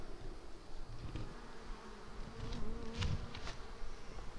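Honeybees hum steadily in an open hive that was given a mated queen, a soft continuous buzz close by with occasional louder passes of individual bees and no talking.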